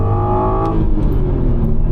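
Audi TT Mk2 with the 3.2 VR6 engine accelerating on the road, a loud, steady close-up drone with a rising tone early on that settles into a continuous rumbling roar.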